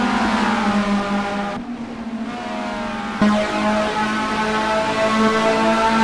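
Race cars at an Albi circuit meeting howl past at high revs, a loud continuous engine whine with gear changes and a shift in pitch as another car passes close.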